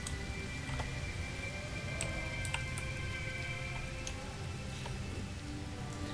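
Acid rain pours steadily on an alien planet in a video game, a constant hissing wash with scattered light ticks and drips on top, with no voices.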